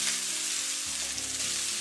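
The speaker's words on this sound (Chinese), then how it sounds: "再把黑木耳给倒进来，洋葱也给倒进来，给它翻炒个30秒" Onion and black fungus stir-fry in a hot wok, a loud, continuous oily sizzle with low tonal hum, and no voices.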